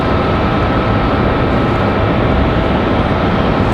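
A Sunrise Airways airplane at Raleigh-Durham International Airport gives off a steady, loud, broadband engine roar that holds evenly throughout, with no speech.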